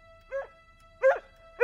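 A cartoon dog barks in three short, clipped yaps, evenly spaced and fairly close over a quiet, steady tonal background.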